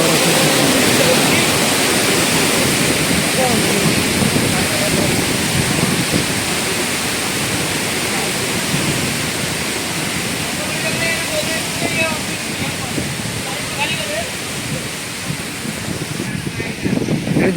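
Heavy water rushing through a gate after two days of rain, a loud continuous roar close by with no breaks.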